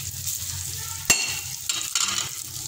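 Fennel seeds and coarsely crushed coriander being stirred into chillies in a hot pan, giving a steady sizzle with a sharp spoon scrape near the middle and a few more scraping strokes after it, close and fairly loud, with no voices.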